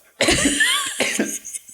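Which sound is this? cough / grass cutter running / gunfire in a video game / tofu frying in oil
cough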